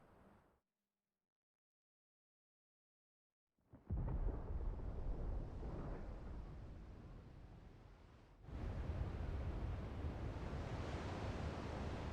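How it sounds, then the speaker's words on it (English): Deep rolling thunder rumble in Final Fantasy XVI, rising from silence into a long, loud, noisy roar that swells again partway through, with no voices. "Sounds like thunder."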